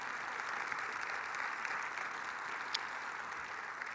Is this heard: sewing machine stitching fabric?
no